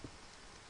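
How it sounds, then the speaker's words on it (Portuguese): Steady rain falling in Paraná, Brazil, heard as a soft, even, broadband hiss that stays constant and fairly faint throughout, with no voices. "tá chovendo aqui no Paraná"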